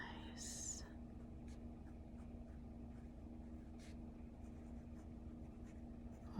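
A Pelikan M200 fountain pen with a fine nib scratches softly across paper in a quiet room, faint and steady under a low background hum.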